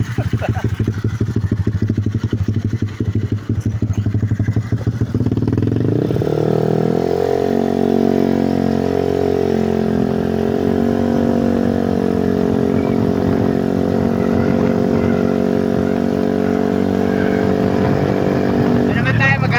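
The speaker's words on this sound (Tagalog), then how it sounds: "Napakaingay ng kanyang pipe." A motorcycle with a very loud aftermarket exhaust pipe revs and idles close by, its deep rumble sustained and dominant for the whole stretch, with a rough clattering quality.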